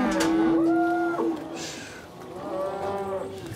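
Cattle moo in two long, loud calls close by, the first drawn out and the second following after a short pause, with a faint outdoor background between them.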